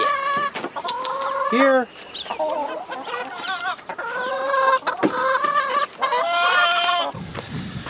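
Several farm chickens cluck and squawk close by in a busy, uneven chatter of calls, with a voice briefly speaking among them.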